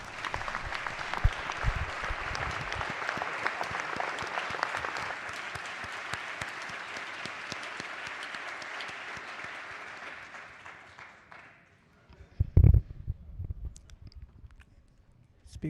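Applause in a legislative house chamber, a dense, sustained round of clapping that gradually thins and dies away, followed by a knock and brief murmuring.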